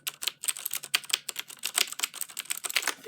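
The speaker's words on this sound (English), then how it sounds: "Do some typing with one hand." Rapid, clicky keystrokes on a Logitech G710 mechanical keyboard with Cherry MX Blue switches, typed one-handed in a steady, uneven patter, close and clear with no talking.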